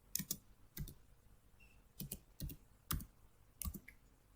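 Keys tapped on a computer keyboard while logging in as root to MySQL in a terminal, heard as short, sparse bursts of clicks in small clusters, close and fairly quiet, with no talking.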